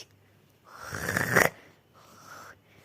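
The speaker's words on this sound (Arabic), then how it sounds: "بطلي شخير بطلي شخير" A person snores while asleep: two rough, close snoring breaths, the first long and loud and the second shorter and softer, with no talking.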